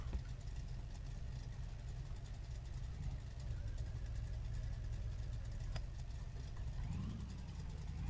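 A box truck engine idles steadily just after starting, a low rumbling drone with a constant throb that holds evenly throughout without revving.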